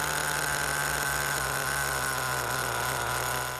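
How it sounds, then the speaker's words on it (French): A nitro-powered HPI RC car engine idles nearby, a steady high buzzing drone with a faint pulsing throb and no talk. "Au ralenti, le moteur doit tourner à un régime réduit et stabilisé."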